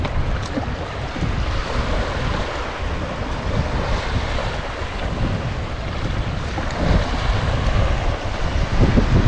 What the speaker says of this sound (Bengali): আপনারা হয়তো ঢেউয়ের শব্দগুলো শুনতে পাচ্ছেন।